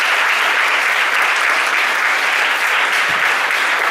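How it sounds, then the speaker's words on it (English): A conference audience at a college of education breaks into loud, continuous applause, a dense even wash of clapping with no pause for the full stretch. "She receives an applause."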